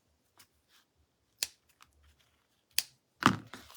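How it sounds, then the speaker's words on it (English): Scissors trimming a Mylar stencil, a few sharp isolated snips spaced apart in a quiet room, the last cut louder and longer. "let me trim this off"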